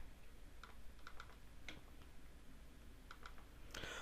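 Faint, quiet clicks from a computer mouse sound in a small irregular cluster over a low room hum, with a brief louder rustle near the end.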